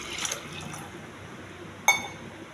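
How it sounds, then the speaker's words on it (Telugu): A glass of water is poured into a pressure cooker holding dal for palak pappu, a soft close trickle ending in a short, sharper splash. "ఒక గ్లాసు వాటర్ వేయాలి."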